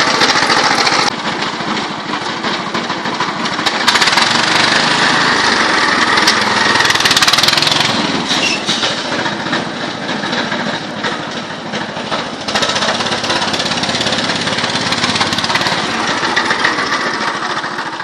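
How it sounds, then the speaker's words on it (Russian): A homemade motor scooter fitted with an engine from a walk-behind tractor runs steadily and loudly close by, a harsh continuous small-engine drone with slight rises in pitch, alone with no talking. "Представляем мотороллер одного из таких, у которого установлен двигатель от мотоблока."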